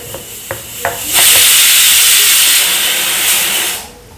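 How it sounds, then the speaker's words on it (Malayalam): A pressure cooker on a home stove vents with a loud, sustained, steamy hiss lasting almost three seconds, preceded by a few light taps, then cuts off abruptly. "കുക്കർ കൂട്ടം വിളിക്കുന്നുണ്ട് അവിടെ കിടന്നിട്ട്"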